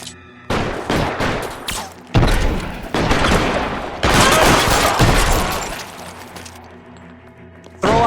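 A gunfight in the video game L.A. Noire: bursts of rapid gunfire and sharp booming shots in close succession, loud and chaotic, then the firing breaks off into near silence before one last shot.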